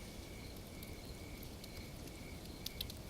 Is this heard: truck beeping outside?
no